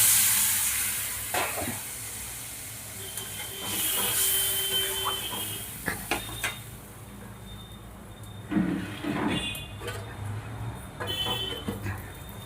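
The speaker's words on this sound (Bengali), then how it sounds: "জল দিয়ে খানুক খানিকটা আলুটা আমি একটু কষিয়ে নেব" Potatoes sautéing in a fried spice mixture with a little water added, a continuous sizzling hiss broken by scraping stirs and clinks, with a voice talking at intervals.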